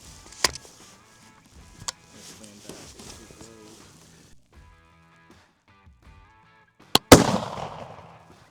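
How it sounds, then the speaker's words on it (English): A muzzleloader fired with a hang fire: a sharp primer crack is followed a split second later by a much louder blast that rings off slowly. Faint clicks and quiet talk come earlier. "Now that was a hang fire."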